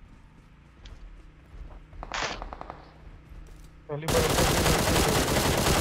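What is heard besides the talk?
gunfire in video game PUBG Mobile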